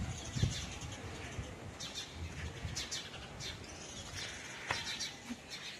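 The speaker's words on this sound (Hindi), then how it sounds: "चिड़िया ही चिड़िया बोल रही है इधर।" Small birds chirp and tweet outdoors around midday, with scattered short calls and a brief burst of wing flaps near the start, all fairly faint against a constant background hiss.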